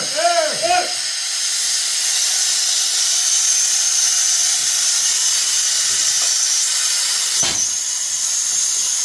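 Compressed air blasts steadily from a hose at a small-scale gold mining site, a loud, continuous broadband hiss running nearly the whole time after a brief voice at the start.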